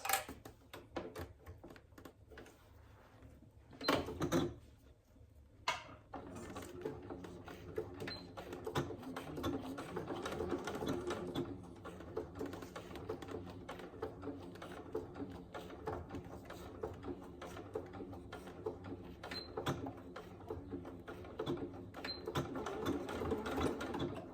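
A sewing machine stitches along the top edge of a fabric wash bag, a steady close mechanical whirr running almost continuously with a brief pause and a few small clicks.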